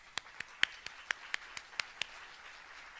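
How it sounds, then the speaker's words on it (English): Scattered, irregular handclaps from a small audience at a food awareness gathering, about a dozen sharp, faint claps spread over a few seconds rather than a full, dense ovation. "Let's give them all a round of applause."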